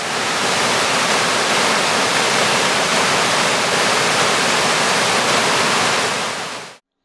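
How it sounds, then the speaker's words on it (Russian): Kichany waterfall on the Kovda river, a small falls with a drop of about a metre and a half, roars as a steady, loud, close broadband rush of falling water with no other sounds, cutting off abruptly at the end. "Вторая достопримечательность – это Кичанский водопад."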